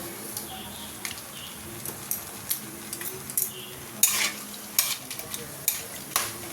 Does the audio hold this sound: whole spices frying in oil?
yes